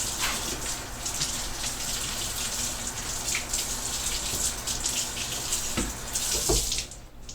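A flattened PVC blade, shaped into a replica of the Hobbit sword Sting, is held under a running cool-water tap, making a loud, steady gush and splash that shifts as the blade moves and briefly drops off at the end.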